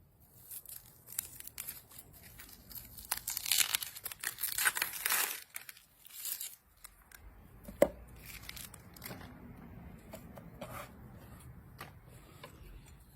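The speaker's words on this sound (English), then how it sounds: "And the way I cut the onion, I keep the tail, and I cut where the roots are." A knife works through an onion on a cutting board with crackling, crinkling slices and light chops, irregular and close, quieter toward the end, with no voices.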